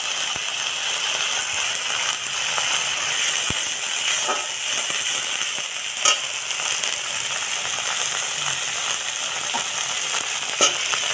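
Spice paste frying with ground gandal leaves, a steady hissing sizzle in the pan broken by a few sharp clicks and scrapes of stirring, close and fairly loud, with no voices.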